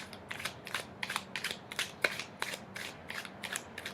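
Crisp papery flicks and riffles repeat in quick bursts, a steady rhythm of cards being shuffled close by, with no voices.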